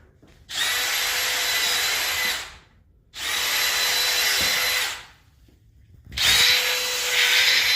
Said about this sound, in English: drill out the lead and oakum all the way around